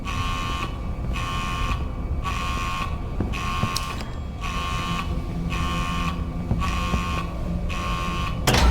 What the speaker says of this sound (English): That's some kind of alarm.